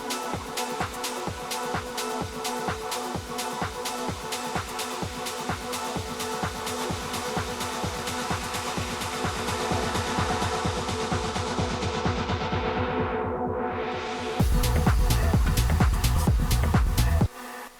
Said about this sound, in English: I added some really crazy effects here on the master channel, especially via Replica XT